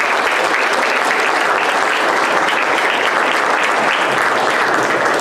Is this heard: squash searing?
no